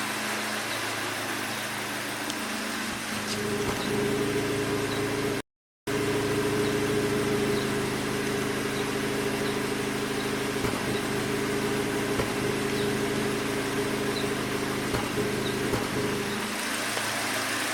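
Hyundai Elantra GT engine idling with a misfire, a steady low rumble with faint irregular ticks and stumbles, heard alone near the car, with a brief dropout partway through.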